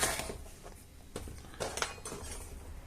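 A knife slices half a pepper on a board, giving a few soft, separate cuts and light taps against the surface. The sounds are close and quiet, and no one speaks.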